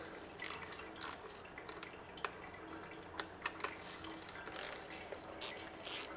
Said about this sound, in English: I'm gonna loosen another bolt here